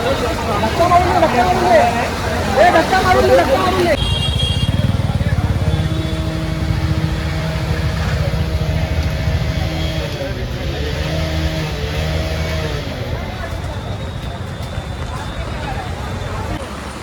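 Traffic jammed on a rain-flooded road in Kurla, Mumbai: a steady rumble of idling and revving car engines with crowd babble, a voice talking over the noise throughout.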